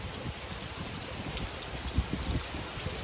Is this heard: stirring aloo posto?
no